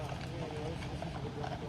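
Police horses wearing eye protection clatter their hooves on pavement during rioting in Paris, a quick clip-clop rhythm under a talking voice.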